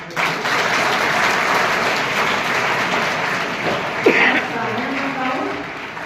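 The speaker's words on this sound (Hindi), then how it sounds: "पहले एक बार जोरदार तालियां" A school audience breaks into loud, sustained applause after a poetry recitation, a dense, even roar of clapping that holds steady, with a brief voice or sharp noise rising over it midway.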